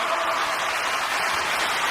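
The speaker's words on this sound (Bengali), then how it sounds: "জয়ন্তীর জন্য জোরদার হাততালি হয়ে যাবে।" An audience at a Bengali stage gathering applauds as Jayanti is welcomed to the stage: a dense, steady wash of clapping from many hands throughout.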